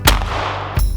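A single loud, close shotgun blast while turkey hunting out West, with a sharp crack and a rolling echo, followed by a second thump near the end.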